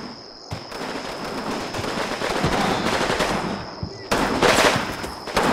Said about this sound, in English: It sounds like there's quite a lot of heavy fighting inside the trenches.